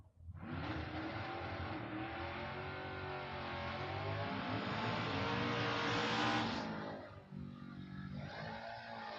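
A Chevelle drag car roars off the line at a drag race, its engine screaming loud and sustained for several seconds before cutting back to a rougher, uneven rumble near the end.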